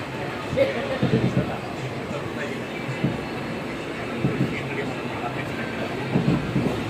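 A Bengaluru metro train rolls along with a steady rumble and periodic clicking of wheels over track joints, heard from inside at moderate volume.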